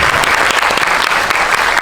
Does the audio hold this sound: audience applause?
yes